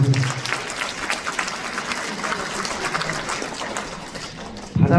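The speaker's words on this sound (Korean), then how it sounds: "그럼 박수 한번 쳐주셔야겠습니다." An audience applauds a National Assembly member at a constituency report event, with broad, dense clapping filling the hall evenly before a sharp loud burst near the end.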